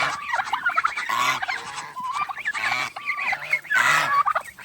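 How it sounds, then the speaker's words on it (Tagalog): A flock of turkeys gobbles and geese honk loudly and close by, circling around, overlapping calls in repeated bursts with no one speaking. "Yung mga pabo. Saka gansa."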